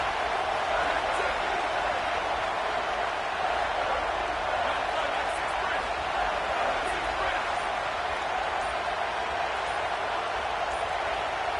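Steady, dense crowd roar filling a large stadium in a college football video game, loud and continuous without pause, with a broadcast commentator talking over it.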